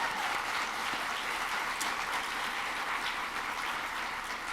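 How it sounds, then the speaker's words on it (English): An audience at an MLK Legacy Week keynote event gives a round of applause: dense, steady clapping from many hands filling the room, sustained evenly throughout without speech. "Give them a round of applause."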